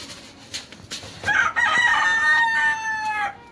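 A rooster crows once, loud and close, a long drawn-out call rising and holding before trailing off, preceded by a few scattered clucks and scuffles around a yard where millet has spilled.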